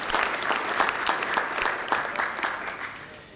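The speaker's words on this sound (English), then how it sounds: "Congratulations to these three teams and a big applause." An audience applauds silver medal winners at a crystal growing competition results ceremony, a steady dense clapping from many hands that holds for several seconds and eases slightly at the end, with no talking.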